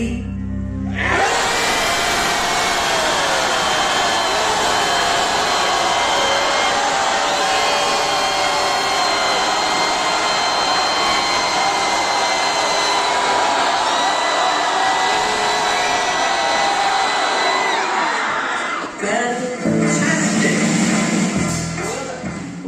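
A concert audience at a performance-art show yells as loud as it can on a count of three, a sustained, dense roar of crowd noise lasting about twenty seconds before cutting off abruptly.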